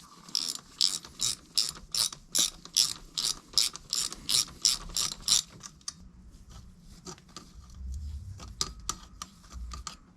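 Close, crisp ratchet clicks in rhythmic back-and-forth strokes as bolts are tightened on a Moto Guzzi Griso big block engine, about a dozen bursts before the clicking slows and fades into quiet shop noise.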